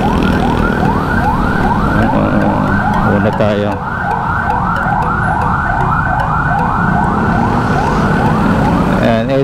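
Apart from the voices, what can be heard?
ambulance siren passing in traffic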